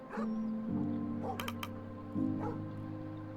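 Sled dogs in The Pale Beyond video game give short yips and whimpers mixed with brief sharp sound effects, all over a low, droning music bed.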